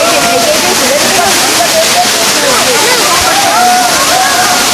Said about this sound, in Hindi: पानी को जो है बिल्कुल ऐसे भाप की तरह स्प्रे किया जा रहा है ताकि जो बर्ड्स हैं उनको थोड़ा सा इस गर्मी में कोल्डनेस मिले।